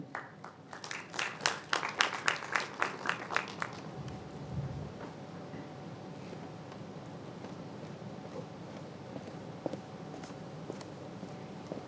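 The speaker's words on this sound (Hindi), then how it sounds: "एक बार उनके लिए जोरदार तालियां बजाई जाएं।" An audience at a youth awards ceremony claps for a top-three finalist, a quick run of sharp, distinct handclaps that thins out after a few seconds, leaving a quiet room with scattered faint taps.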